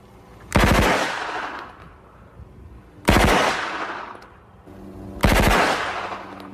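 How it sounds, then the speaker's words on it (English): An MP5 submachine gun fires three loud, sharp bursts of rapid shots spaced a couple of seconds apart, each burst ringing out with a decaying echo and no voices between them. "I will load two 30-round magazines that are side by side in a magazine clamp, and I will fire two 3-round bursts initially."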